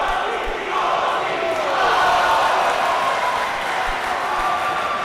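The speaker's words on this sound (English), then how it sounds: "the Coyotes trying to get their crowd into this one, getting their crowd into this one, getting them to chant" Mille-Iles Coyotes fans in a gym at a junior boys volleyball match against the Regi Panthers, a loud continuous crowd chant and roar with faint ball thumps underneath.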